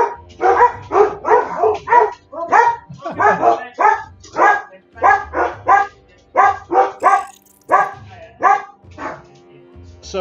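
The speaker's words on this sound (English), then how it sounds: "Sorry about all the barking, guys." Several dogs bark loudly and close by in rapid, repeated bursts, excited yaps following one another in an uneven rhythm with brief pauses, set off by a door.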